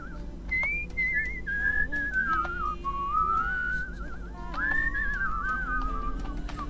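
A whistled melody from the video game Where the Water Tastes Like Wine, a solo tune with gliding, wavering notes and short phrases with small breaks, clear and fairly close over a faint low background.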